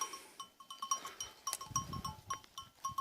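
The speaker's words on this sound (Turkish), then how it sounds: "Kısır koyunları dama getirdim." Sheep bleat a few times, low and nearby, while bells clink steadily in an irregular rhythm around them.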